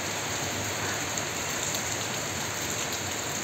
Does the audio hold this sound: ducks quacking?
no